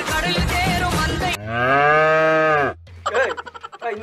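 A cow moos loudly and close by in one long, drawn-out low call after a burst of noisy sound, followed by short fading rhythmic grunts.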